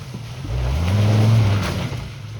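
A Jeep's engine revs hard as its wheels spin, building to a loud, low roar that swells and then fades across a couple of seconds.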